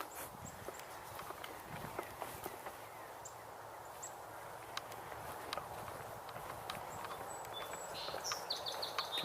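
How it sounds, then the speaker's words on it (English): A song sparrow sings faint, distant trilled phrases outdoors, most noticeable toward the end, under nearby crunching footsteps and light rustling. "Just heard a song sparrow"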